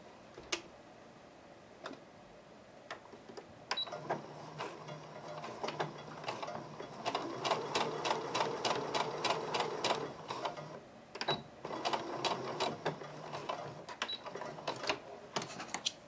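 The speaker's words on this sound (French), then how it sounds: "Et donc maintenant, je vais coudre de la marque à la marque." A sewing machine stitches fabric from mark to mark in rapid mechanical ticking bursts, starting with isolated clicks and then running in steady rhythmic runs, close and fairly quiet with no talk.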